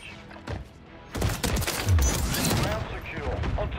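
Rapid bursts of gunfire in a shooter video game, a dense fusillade of shots starting faintly and then continuing loud and steady for several seconds, with some voice underneath.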